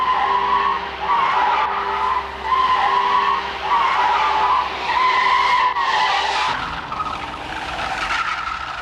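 A 1975 Citroën CX 2200 circles a wet skid pad, its tires squealing in long sustained howls that rise and fall in waves over a steady engine drone, loud and close.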